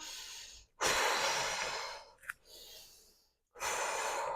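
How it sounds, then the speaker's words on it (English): Heavy breaths in and out during a core workout, two long airy exhalations separated by a short sharp intake and a pause, close and fairly loud with no talking. "you're going to go ahead and inhale, exhale"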